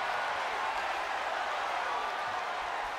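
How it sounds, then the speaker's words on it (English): A capacity arena crowd in the WWE 2K23 wrestling game roars as a steady, dense wash of cheering and scattered clapping, with no pauses throughout. "you hear this capacity crowd following you on that journey"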